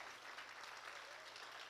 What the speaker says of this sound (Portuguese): Você pode dar um aplauso ao Senhor por essa palavra.